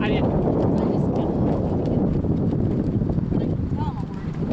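Hooves of a horse jogging on command, a steady clip-clop rhythm that runs throughout, with wind noise and a person talking over it.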